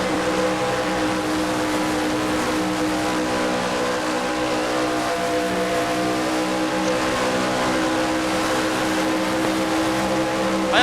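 Race car engines from a sound pack for ASCC cars in a simulated Texas 500 racing game drone steadily at high revs, a loud, continuous tonal roar of several cars that holds without a break.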